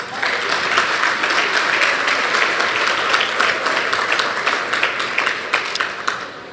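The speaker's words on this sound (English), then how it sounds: "so give yourselves a round of applause." A gala crowd at a youth sports all-star awards night applauds loudly and steadily, thick unbroken clapping that fades slightly toward the end.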